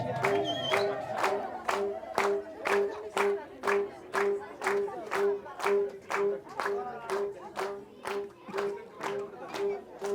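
An audience at a school event gives teachers a sustained round of rhythmic, evenly paced clapping in unison, with crowd murmur and a repeating tonal background underneath.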